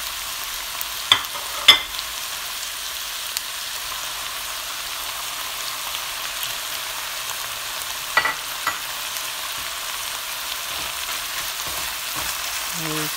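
Rice and egg noodles with oyster sauce stir-fried in a pan, a steady loud sizzle throughout with a few scraping stirs and clicks of the utensil rising briefly above it.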